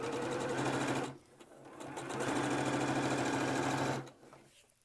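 A sewing machine stitches a fabric mask with a steady, close mechanical whir in two runs, a brief pause between them and the motor stopping near the end; talk is barely present.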